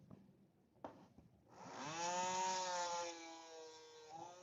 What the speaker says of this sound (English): again, sawing these rings